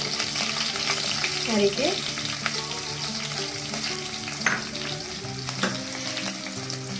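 Two green chillies' worth of cut pieces and asafoetida frying in hot oil for masala dosa filling: a continuous close sizzle with scraping stir strokes, and a voice speaking briefly over it.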